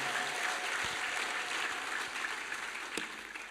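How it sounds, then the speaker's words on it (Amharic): Congregation clapping during a Saturday church service at Ebenezer FHC in Nairobi, a continuous, fairly soft roll of many hands with a few sharper individual claps standing out. "ጭብጨባ።"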